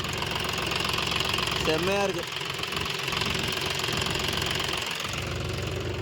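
A vehicle's diesel engine idles steadily after running for about an hour and a half, a constant knocking drone close by, while someone speaks briefly over it.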